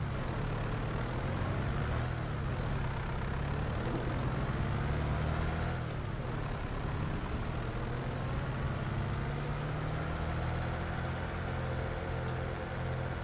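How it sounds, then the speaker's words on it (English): Steady low engine drone from a tractor idling in the Farming Simulator 25 game, continuous and even throughout with no talk over it. "Come on, tractor, shift."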